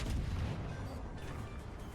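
Naval gunfire in World of Warships Legends, a deep rumbling boom that swells at the start and rolls on as a dense, low, sustained roar for about two seconds.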